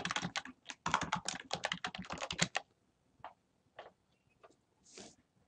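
A name is typed on a computer keyboard while setting up a Moodle 3.4 marking guide: a quick, close run of crisp keystrokes for about two and a half seconds, then a few scattered taps with pauses in a quiet room.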